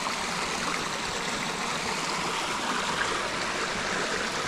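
Clear stream water rushing steadily beside a waterfall at a New Hampshire campsite, a continuous even wash of flowing water with no voices.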